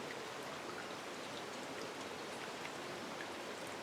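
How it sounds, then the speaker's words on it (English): Quiet, steady rain patters onto a veranda during the Japanese rainy season, with soft drips spread evenly throughout. No frogs, birds or crow stand out clearly. "You'll hear the very first frogs of the year, a handful of birds, and a crow vying for attention."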